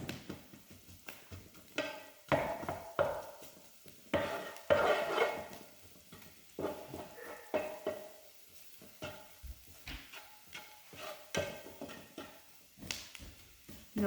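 Spoon stirring potato, onions and flour in a pot on the stove, a steady run of scraping and soft clattering strokes with faint sizzling underneath, close and moderately loud.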